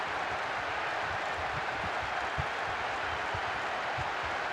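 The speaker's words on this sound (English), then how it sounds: "Even some of the opposing fans are clapping that." A stadium crowd in a PES football video game applauds a goal, a steady wash of clapping and crowd noise running throughout at moderate loudness with no voice over it.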